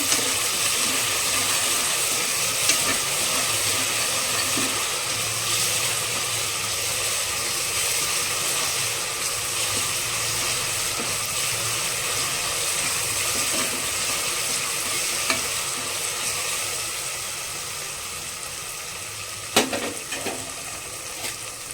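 Mushroom kurma ingredients fry in a pan with a steady, dense sizzle that runs unbroken for over twenty seconds, with a few faint scrapes and clicks and no voices.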